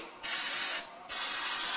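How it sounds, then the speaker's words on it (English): Cooking spray with flour is sprayed into a fluted cake pan in two bursts. The first hiss lasts about half a second, then after a short gap a second, steady hiss runs to the end, loud and close. "So what I'm going to do is you'll see me spray"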